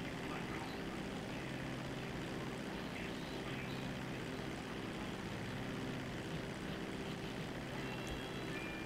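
An airplane takes off with wheels up in a crime video game, its propeller engine droning steadily and evenly throughout, moderately loud with no talk over it.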